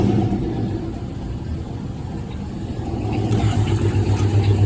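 A Box Chevy's engine runs with a deep, steady rumble close by, swelling slightly as it revs toward the end, with no talk over it.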